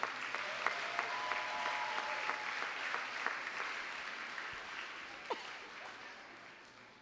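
Audience at an awards gala breaks into sustained applause, a dense even wash of clapping heard from a distance that slowly fades out.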